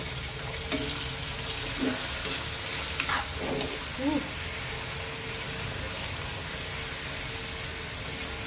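Liver and onions sautéing in a pan for home-cooked pancit: a steady loud sizzle with a few stirring scrapes and clinks in the first half. A voice speaks faintly now and then beneath the frying.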